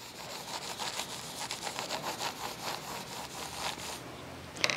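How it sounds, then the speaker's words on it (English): A squeegee is dragged repeatedly over rhinestones on transfer tape, producing close, rhythmic scraping and rubbing strokes at a fairly quick even pace, ending with a small sharp click. "you'll use the squeegee again to smooth over the rhinestones, make sure they get stuck to the transfer tape"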